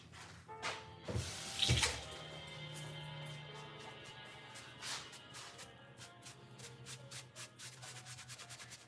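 Coconut oil being washed off hands under a running tap: quiet splashing water and rubbing of hands at close range, in uneven bursts, with no talking.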